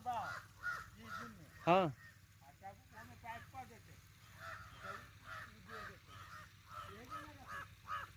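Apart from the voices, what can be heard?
crows cawing in a farm field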